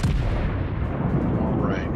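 Battleship guns fire armor-piercing shells in the naval game World of Warships, aboard HMS Bellerophon, producing a loud, continuous booming roar with dense rumbling that fills the whole moment.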